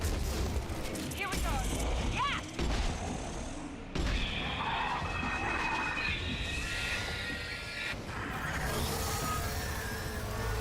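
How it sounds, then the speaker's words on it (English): Sustained gunfire and combat clatter in Mass Effect 2, loud overlapping shots with mechanical whirs and sharp breaks, while a voice speaks over the firefight. "Taking fire."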